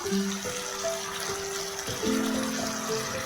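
Water is poured into a pan of cauliflower curry, a close, fairly quiet gushing flow with a pause partway through before it resumes.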